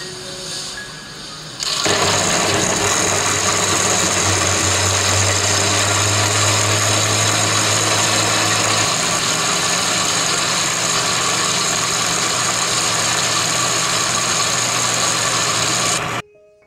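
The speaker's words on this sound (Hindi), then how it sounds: "अब इसको ब्लेंड कर लेंगे" A blender whirring a strawberry milkshake made with khoya and cold milk, starting abruptly with a loud, steady motor roar that holds for about fourteen seconds before cutting off, close and without talk.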